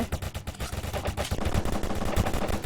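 Rapid bursts of gunfire from a shooter video game, loud and dense with overlapping shots and heavy low thumps throughout, no voices.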